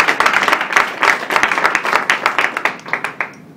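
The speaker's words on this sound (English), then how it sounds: "That applause is also for these three up here" At a public hearing on gas drilling, a room of people claps for several seconds. The applause is loud and close and thins toward the end into a few scattered claps.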